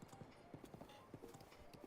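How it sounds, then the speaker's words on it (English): Horse hooves clip-clop steadily on a road in the video game The Legend of Zelda: Breath of the Wild, a quick even rhythm of light hoof beats heard faintly over low background game sound. "as horses ride on the road, you can actually just observe the beauty of Hyrule"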